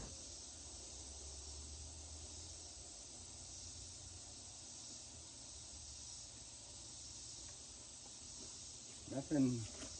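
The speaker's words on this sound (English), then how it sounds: "That noise is the cicadas" Steady high-pitched insect drone from cicadas fills the air continuously at moderate level, heard near an old MCI bus, with a brief voice breaking in near the end.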